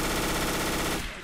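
Rapid automatic gunfire from the zombie shooter Left 4 Dead 2, a dense, loud continuous burst that cuts off abruptly near the end.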